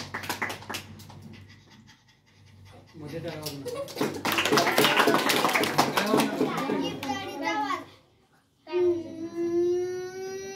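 A young boy imitates a panting dog with quick rhythmic huffing breaths, loud and close, ending with a sustained high whining tone.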